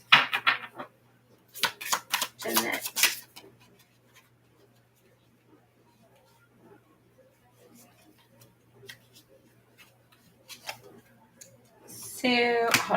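A deck of tarot cards being shuffled, with bursts of riffling and tapping near the start and again at the end, and a quiet stretch in between.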